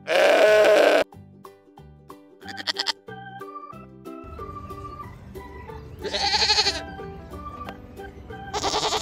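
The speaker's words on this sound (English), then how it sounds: "Goat." A goat bleats loudly in quavering bursts, at the start and twice again later, between stretches of other tonal sounds and music.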